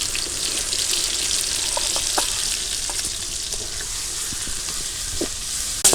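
Onion paste and cumin paste fry in a pan with a continuous close sizzle, scattered small ticks and scrapes from stirring, and a sharper clatter right at the end.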